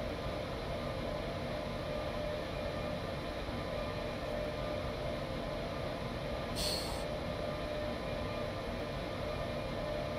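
Freight train hauled by a BR 152 locomotive in Train Simulator, coasting with power off: a steady, loud rolling rumble throughout with a brief higher hiss midway.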